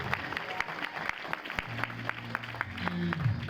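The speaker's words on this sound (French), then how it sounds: "parce que nous applaudissons" Applause at a Sunday church program, a scattering of distinct, fairly quiet claps in an uneven rhythm over a low hum.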